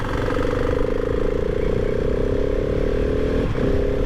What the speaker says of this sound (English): there's so much inertia from that single piston engine going up and down